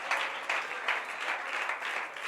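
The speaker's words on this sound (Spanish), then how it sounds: "¿Habrá alguno que puede aplaudir la gloria de Dios este día?" Church congregation applauding in a steady, dense patter of many hands that swells and dips slightly, fairly even throughout and with no voices on top.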